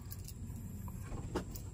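Keys jangling on a keychain that holds a small tire valve remover, soft metallic clinks near the start and a brighter rattle toward the end over a low background hum.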